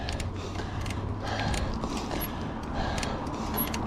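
A bicycle squeaks and creaks in repeated short mechanical chirps while being ridden on a road in Gig Harbor, with steady road and wind noise beneath.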